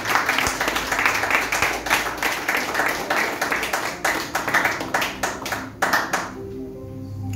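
A church congregation claps together during a sermon, a steady, fairly close patter of many hands that thins toward the end and stops, leaving quiet room tone.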